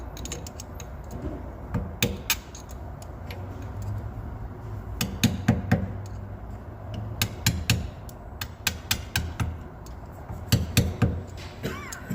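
A flathead screwdriver tapping out the seal of a Mercedes W108 steering box, giving clusters of sharp metallic taps and clinks over a continuous low workshop background, no speech.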